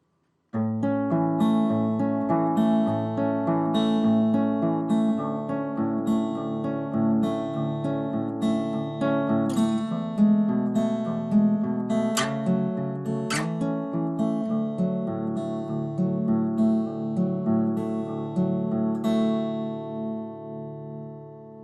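A guitar plays a fingerpicked intro at full speed, a steady rolling pattern of ringing plucked notes over changing bass notes, close and even with no voices.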